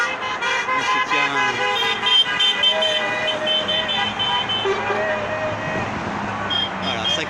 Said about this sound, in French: Voilà, ça klaxonne de partout.